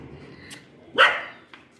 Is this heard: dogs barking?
yes